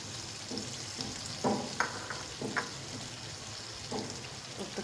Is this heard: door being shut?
no